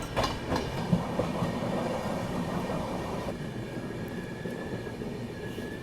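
The Ahmedabad-Gorakhpur Express runs along the rails with a steady rumble and faint clickety-clack from the wheels, a close and continuous noise with a thin high squeal near the end.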